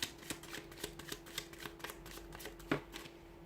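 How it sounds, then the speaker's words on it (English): Deck of tarot cards being shuffled by hand, a quiet run of soft riffling slaps and flicks with one sharper snap near the end. "let's give the cards a shuffle"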